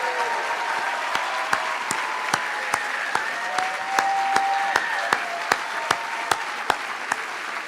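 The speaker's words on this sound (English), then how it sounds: "let's give these students a huge round of applause for their leadership" Audience applause at a school graduation closing ceremony, a steady wash of clapping over the whole span with a few sharp, distinct claps standing out near the front.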